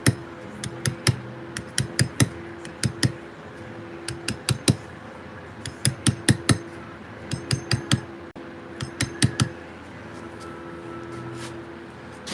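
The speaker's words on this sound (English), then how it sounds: "Starting off with a little hammer, a little 600 gram dummy hammer, before we'll move on to the bigger one." A small 600 gram dummy hammer strikes stone in a carving workshop, giving sharp, loud, close clinks in irregular bursts of two to four blows, with short pauses between the groups.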